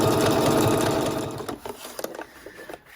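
A Pfaff Passport 3.0 sewing machine runs at a steady fast whir while stitching binding onto a fabric edge, then stops, leaving small clicks and handling noises.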